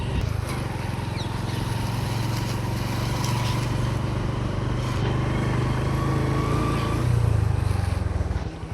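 A motorcycle engine runs close by in a steady, continuous low drone that swells slightly toward the end, on a bike ride out for petrol.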